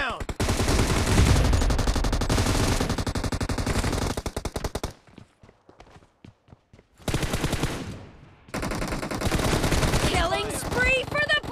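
Rapid automatic gunfire from the mobile battle-royale game PUBG Mobile, loud bursts with a short quiet gap midway, mixed with game voice announcements and music.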